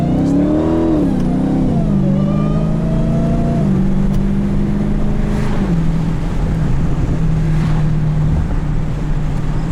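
A 2018 Dodge Demon launches hard off the line, heard from inside the car. The engine roars loudly and climbs through rising, dropping revs as it shifts, with a continuous heavy drone throughout.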